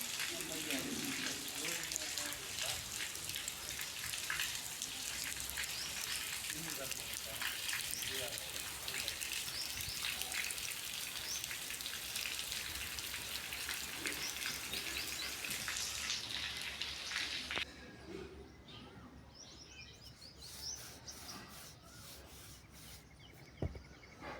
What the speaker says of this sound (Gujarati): જુઓ તમે પણ જોઈ શકો છો કેવો વરસાદ ચાલુ છે અહીંયા